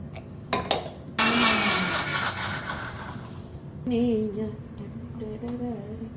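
A kitchen mixer grinder blends coconut chutney in a harsh, whirring burst lasting a few seconds, close and loud, followed by someone talking over quieter kitchen sounds.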